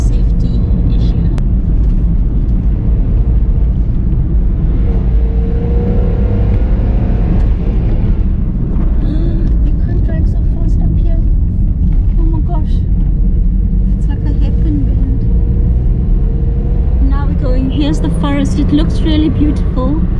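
A car engine drones and the tyres rumble continuously while driving a damaged, collapsing road on the Garden Route between Plettenberg Bay and the Tsitsikamma forest, with steady low cabin noise throughout and a person talking over it.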